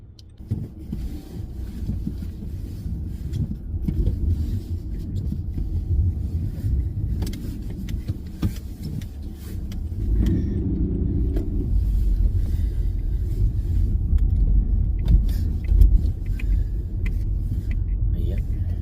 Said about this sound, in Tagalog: So iniwan lang natin yung sasakyan ni Mrs. doon na naka-andar.